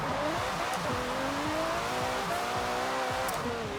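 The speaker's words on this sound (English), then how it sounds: "the new Aston Martin Vulcan AMR Pro. Now this is pretty much a race car." An Aston Martin Vulcan AMR Pro race car in Forza Horizon 4 drives with a steady, close engine drone. Its pitch rises and shifts through the gears, with faint tire squeal and no voices.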